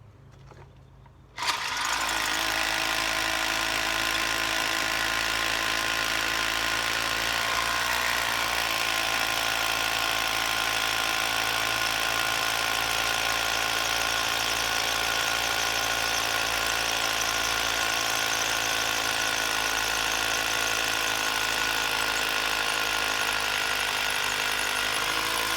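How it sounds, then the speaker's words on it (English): A Bosch hammer drill starts abruptly and grinds steadily into hard rock, a loud continuous whining rattle that holds for a long stretch. "we're going to step it up with the Bosch hammer drill"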